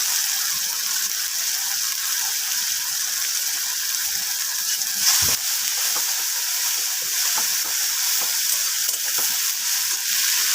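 Tomato puree and chili paste fry in hot oil for a Bengali katla fish and cauliflower dish, making a loud, steady, close sizzle that continues throughout, with small crackles and one brief knock partway through.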